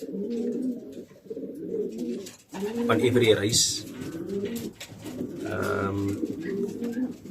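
Racing pigeons at a loft coo in deep, rolling bursts, several loud calls close by, while someone talks over them.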